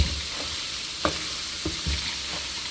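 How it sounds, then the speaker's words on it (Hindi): Boiled rice stirred into cooked chicken and vegetables in a pot for a mixed vegetable pulao: a handful of distinct spoon scrapes about half a second apart over a low, steady sizzle, close and alone. "तो अब हम इसमें ऐड करेंगे बॉयल चावल और अच्छी तरह अब इसको मिक्स करेंगे"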